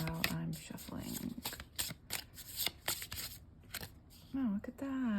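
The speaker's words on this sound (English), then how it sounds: "See if anything wants to fly out while I'm shuffling." A tarot deck being shuffled by hand, with a series of quick, crisp riffling card bursts close to the mic and a person talking between and over them.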